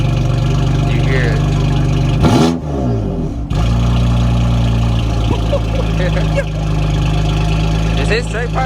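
A BMW M4 with catless downpipes idles loudly and steadily with its exhaust flaps open, a deep continuous drone interrupted once by a brief dip, while people talk nearby throughout.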